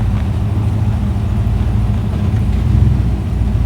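A Skip White 383 small-block Chevy V8 in a muscle truck idles nearby, a steady loud low rumble with a lumpy, even pulse throughout.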